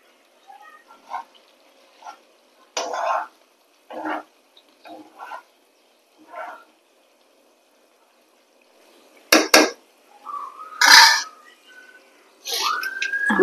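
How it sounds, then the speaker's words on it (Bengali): Metal cooking pot lid lifted while kochu leaves and prawns steam, a few close clinks and scrapes scattered among quiet gaps, with brief voice sounds near the end. "10 মিনিট পরে ঢাকাটা খুলছি।"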